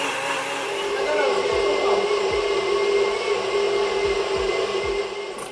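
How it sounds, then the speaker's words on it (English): A kitchen blender whirs steadily, mixing banana with water and sugar. The motor drone is loud and close and runs without a break for several seconds, with soft knocks underneath as the contents churn. "I'm gonna just blend it all together."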